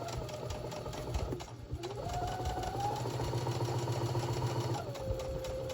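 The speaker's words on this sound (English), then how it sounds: "now we're going to go sew all the way around" Sewing machine running steadily while stitching around the edge of a Santa mug rug, a continuous close whirring motor hum with brief pitch changes and a short slowdown partway through, no voices.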